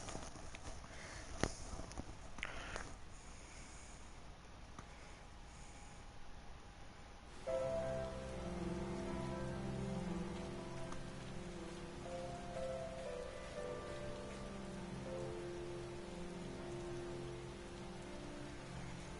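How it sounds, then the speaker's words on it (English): Steady rain patters on a surface with scattered drips in Final Fantasy XIV: Stormblood, then a low musical drone and soft tones rise up beneath the rainfall. "It's raining out."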